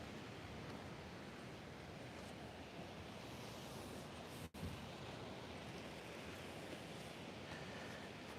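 Steady ocean surf and breeze along the San Diego oceanfront, a continuous broadband wash of waves with wind across the microphone and one momentary dropout midway.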